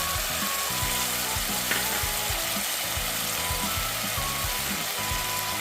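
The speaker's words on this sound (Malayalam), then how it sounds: "അതിനുശേഷം നമ്മളിവിടെ റെഡിയാക്കി വെച്ചിരിക്കുന്ന പുളിവെള്ളം അതിലേക്ക് ഒഴിച്ച് കൊടുക്കണം." Tamarind water poured into a hot pan for pepper rasam sets off a loud, continuous sizzle and bubbling hiss, close up and steady throughout with no voices.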